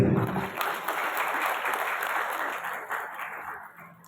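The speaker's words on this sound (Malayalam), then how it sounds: "എന്താ അവർക്കൊരു കയ്യടി കൊടുക്കേ?" Audience applause at a project launch function, a dense, steady round of clapping from a crowd that holds for about four seconds and then slowly thins out.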